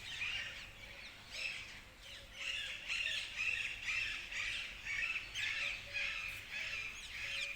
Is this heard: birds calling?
yes